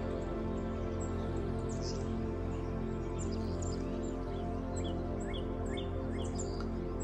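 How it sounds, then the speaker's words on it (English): Faint chirps and tweets of several birds sound far off over a steady low background hum. "You hear the birds singing out here."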